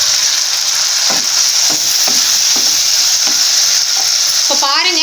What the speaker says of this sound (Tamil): இப்போ இந்த தக்காளியும் நல்லா வதங்கட்டும்.